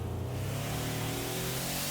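A very powerful custom-built car engine, said to make 8,000 horsepower, holds a loud, steady rumble as the throttle is opened slightly from idle, continuous and close with no talk over it.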